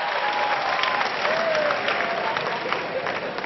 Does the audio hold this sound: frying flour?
no